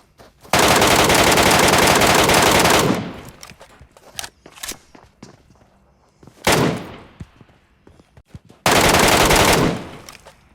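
Video game gunfire in PUBG Metro mode: long sustained bursts of automatic fire, loud and close, with scattered single shots and impacts in between.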